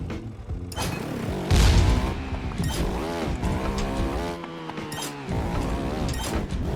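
An explosive blows up on a Trials Rising editor test track: one deep, loud boom bursts out partway through, layered over continuous game music and engine-like noise.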